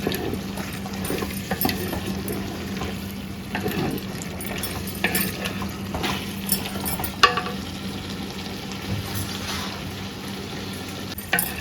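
Chicken sizzles in a pan as it is stirred with coriander powder and chilli powder, giving a continuous frying hiss with repeated scraping strokes and occasional clacks of the spoon.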